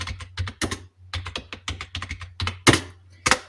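Hindi text being typed on a computer keyboard in Kruti Dev, a steady run of crisp, close key taps in uneven bursts with a few heavier thunks, over a low constant hum.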